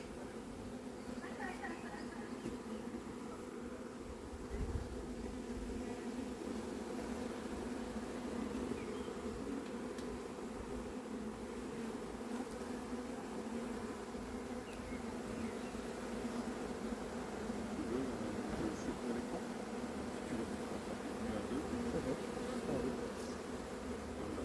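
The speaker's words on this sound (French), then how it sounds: "Au revoir, petite abeille." A honeybee swarm being hived near Bussy-Saint-Georges fills the air with a steady, dense buzz, moderately close and constant, while people talk faintly in the background.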